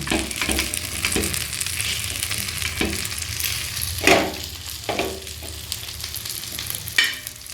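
Fish frying in a pan of spices gives a steady sizzling hiss, punctuated by several sharper spatters and bursts as the pieces are moved, close and continuous with no talking.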